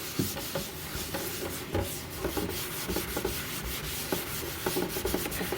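A paper towel soaked in rubbing alcohol scrubs permanent marker off a metal or plastic surface, making close, scratchy rubbing strokes in an uneven back-and-forth rhythm.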